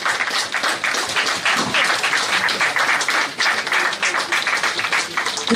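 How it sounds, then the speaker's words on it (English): Audience applause at a book launch for a true-crime thriller, a steady wash of many hands clapping, moderately loud and sustained with no talk over it. "Can I have a round of applause,"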